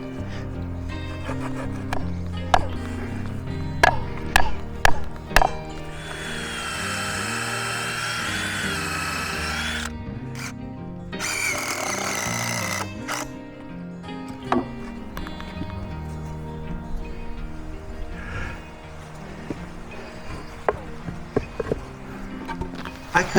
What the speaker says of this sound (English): I cut a small piece of landscaping timber at a 45-degree angle